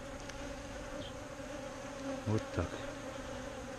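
Honeybees hum steadily around a queen cage in a hive as a carniolan or Buckfast queen is introduced, with brief handling knocks and a short spoken phrase over the buzzing.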